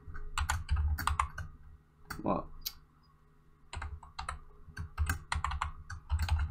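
Keys clatter on a computer keyboard as code is typed, quick close bursts of clicks that pause briefly midway and then resume, with someone speaking a word near the start.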